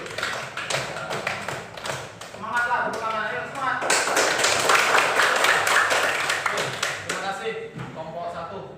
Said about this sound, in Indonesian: beri tepuk tangan dulu hasil presentasi kelompok 1